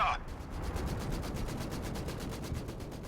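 Vickers machine gun in Company of Heroes 2 firing a long sustained burst of evenly spaced rapid shots, steady and moderately loud, with a brief sharp sound at the start.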